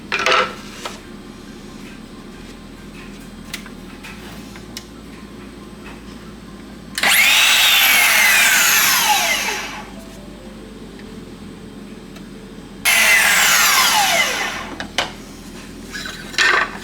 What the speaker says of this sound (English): So I attempted to use the power tool with the 3rd piece of wood.